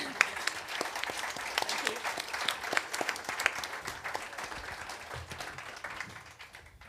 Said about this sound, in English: A round of applause from everyone, please.